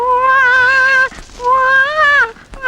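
A man imitating a crying baby, practising mimicry, gives two drawn-out, wavering wails separated by a short pause, loud and close.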